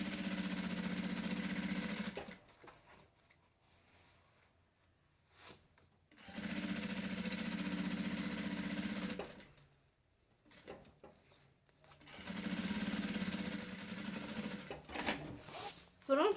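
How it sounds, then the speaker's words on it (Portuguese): Sewing machine topstitching a homemade lunch bag, running in three long steady whirring bursts separated by quiet pauses while the fabric is adjusted. "E aí você vai vir ajeitando. E vai pespontando."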